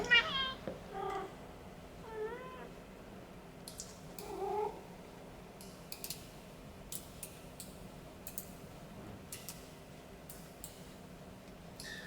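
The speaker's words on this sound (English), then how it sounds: "I'm not sure if you're hearing that, but my cat's saying hi." A pet cat meows a few short times early on, fairly faint under a live game stream's background sounds and clicks, with no speech.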